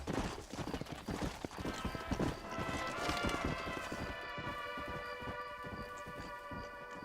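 Horse hooves clip-clop at a steady trotting rhythm in the Red Dead Redemption video game, loud and close, layered over sustained tonal game music with no talking.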